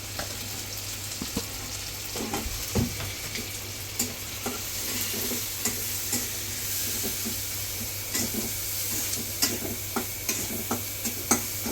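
Spices with turmeric and salt sizzle steadily in a hot pan for a fish dish while a utensil scrapes and stirs with repeated clicks throughout.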